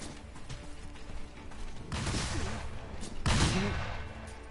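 Gunfire from a gunner enemy in Sekiro, heard as two loud muffled blasts with rumbling tails, spaced about a second apart over a low ambient bed.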